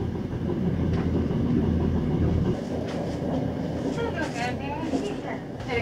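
A 1927 wooden salon carriage rolling behind the Hr1 Ukko-Pekka steam locomotive, giving a steady rumbling rattle with faint wheel clicks, while people talk inside the carriage.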